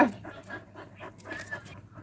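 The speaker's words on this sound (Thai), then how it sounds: "ไปเล่นมาเหนื่อยสิ หอบเลยไปวิ่งมา" A dog pants after running and playing, quick soft breaths repeating in an even rhythm, close by and fairly quiet with no one talking.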